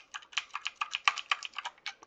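Computer keyboard arrow keys are pressed in a quick, irregular run of about fifteen soft clicks over two seconds, close and quiet.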